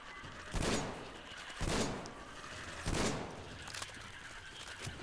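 Shotgun blasts in the video game Metro Exodus during a fight with giant spiders: three heavy booming shots spaced about a second apart, each with a decaying tail, followed by a softer thump and no talking over them.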